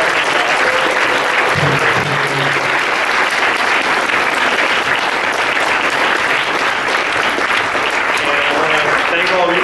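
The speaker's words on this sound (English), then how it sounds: "why don't we have a round of applause for the guys up on the panel here" Convention crowd at a video game industry panel applauding the panelists, loud continuous clapping from many hands with a few voices underneath.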